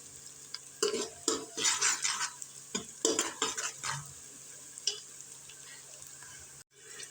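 Onions frying in a pan for dal, with bursts of sizzling and stirring scrapes coming in uneven waves, loud and close, fading toward a quieter hiss near the end.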